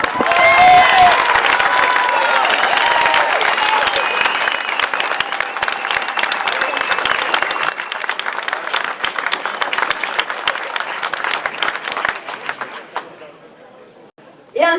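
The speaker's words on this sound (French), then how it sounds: "on vous applaudit bien fort" Crowd at an inauguration applauding coaches, referees, helpers and players, loud sustained clapping mixed with cheers and chatter that gradually thins and fades out near the end.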